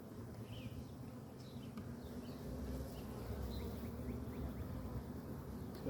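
Honeybees buzz steadily around open brood frames in a hive, a dense continuous drone heard up close with no talking.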